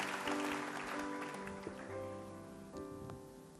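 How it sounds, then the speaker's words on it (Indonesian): Church congregation applauding during a sermon, a soft, diffuse patter of clapping from a large room heard faintly beneath sustained music tones that fade out. "Berikan tepuk tangan yang meriah buat Tuhan kita"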